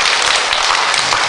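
A church congregation claps in warm, steady applause of encouragement for the student group and teachers at a dedication worship service, dense and continuous throughout, with no voices over it.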